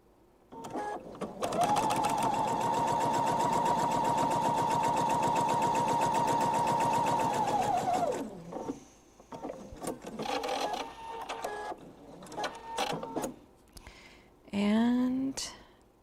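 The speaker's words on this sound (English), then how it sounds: "we're just going to do a 1/4 inch seam on these little strips" A sewing machine runs a quarter-inch seam on small fabric strips, a steady close whirring buzz for several seconds that then stops, followed by handling clatter and a brief voice.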